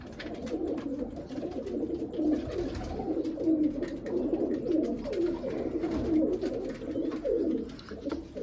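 Pigeons of a fancy breed with feathered feet coo in a loft, a steady chorus of low throaty rolling calls from several birds close by, unbroken by talk.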